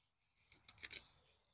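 Water spinach stems are cut near the base during a harvest in a front-yard garden bed. A few quick, faint snips come in a short cluster near the middle, with quiet outdoor stillness around them.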